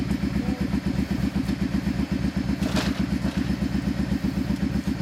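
A 1973 Kawasaki Z1 motorcycle engine idles close by, with a fast, even, throbbing exhaust pulse and mechanical clatter, running steadily and loudly with no talk over it.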